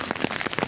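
Heavy rain mixed with hail in Kashmir patters densely and close by, with rapid irregular taps and pellet hits crowding together in a busy, continuous clatter.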